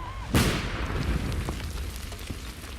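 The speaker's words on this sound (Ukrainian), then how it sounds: "Вибух." A single sharp tripwire mine explosion bursts out loudly, followed by a rumbling, crackling decay with scattered debris-like pops trailing off.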